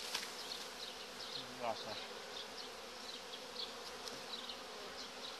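Honeybees buzzing at the hive, a faint, steady drone of many wings up close, with a few brief louder passes and soft background rustling.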